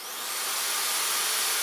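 A corded drill powered by a Jackery Explorer 290 power station whirs steadily and loudly, a continuous broadband motor hiss that holds for under two seconds with no one talking.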